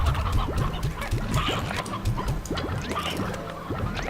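Chickens from the video game Slime Rancher cluck and squawk in a busy, overlapping flock, with steady chatter that fills the whole stretch at close range.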